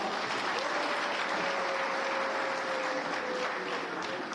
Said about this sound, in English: Let's give him a bigger clap.